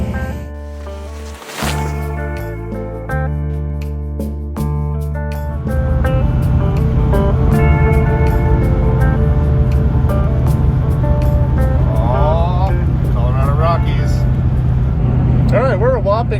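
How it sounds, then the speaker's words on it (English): A car cruises on the highway with a steady, loud engine and road drone from inside the cabin, while people talk over it. "we're just now getting on the highway"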